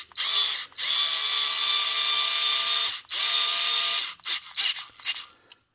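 Ryobi multi-head cordless screwdriver driving a nut down a bolt, three loud whirring motor bursts with brief pauses between, followed by a few short clicks and ratcheting taps.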